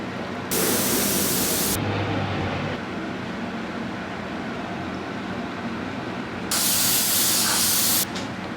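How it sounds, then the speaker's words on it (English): An airbrush loaded with translucent paint gives two sharp bursts of spraying hiss, one short near the start and another near the end, with a quieter airy background between them. "the best tool for the job is your airbrush, loaded with a little bit of translucent paint"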